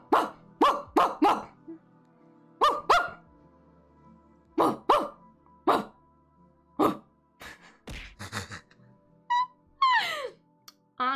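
A person imitates a dog, giving short, punchy woof-like barks in quick groups of two to four, separated by pauses, with a few throaty yelps and a rising squeal near the end, close and fairly loud.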